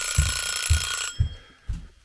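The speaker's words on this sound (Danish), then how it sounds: "nu ringer ved æggeuret også" A kitchen egg timer rings steadily for about a second and then stops, over a pan of carrots and onions frying for curry rice, with four dull, evenly spaced knocks from the cooking running underneath.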